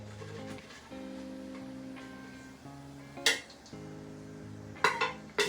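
Cooked bacon being moved from a bowl to drain while making Zuppa Toscana soup, with several close utensil clinks and scrapes against dishes over a steady background hum.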